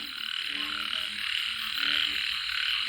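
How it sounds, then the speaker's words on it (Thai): A chorus of frogs croaking densely and continuously during rain, with rhythmic pulsing calls layered over a high, steady trill. "เสียงกบเสียงเขียด"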